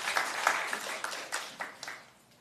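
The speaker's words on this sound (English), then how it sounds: "normally we don't allow clapping and outward sounds" Audience applause at an Orange County Board of County Commissioners meeting, a short burst of clapping from a crowded chamber that tapers off within a couple of seconds.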